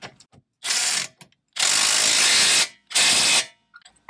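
A small impact gun tightens rear strut suspension bolts on a Dodge Grand Caravan in three loud, close hammering bursts, the middle one longest, separated by brief silences with faint clicks.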